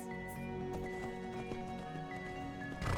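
Horse hooves clip-clop steadily in Skyrim, a near, even trotting rhythm running the whole time beneath sustained musical tones.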